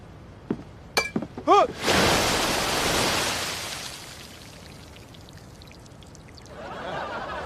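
Dirty water splashes over a person in a rush, preceded by a few clinks, then a broad gushing pour that fades into trickling and dripping, close and loud with no talk.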